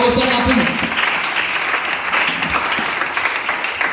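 Church congregation clapping and cheering in praise, a loud sustained round of applause that fills the room, with a voice briefly speaking at the start.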